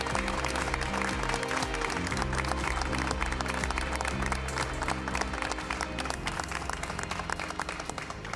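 Studio audience applause welcoming guests on a French-language Quebec TV broadcast about trustworthy AI, dense sustained clapping from many hands, loud and continuous for over eight seconds with no speech.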